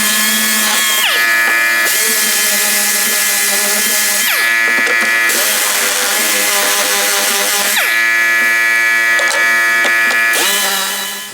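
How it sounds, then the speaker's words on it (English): A shop air compressor running in a workshop where a subwoofer box is being built, with a loud continuous motor drone, whining tones and a few pitch shifts as it builds pressure before cutting off at the end. "So I'm gonna power up the compressor"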